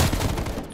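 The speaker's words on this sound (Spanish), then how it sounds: "Tiros." A short burst of automatic gunfire in a zombie video game, several quick shots in a row that cut off abruptly.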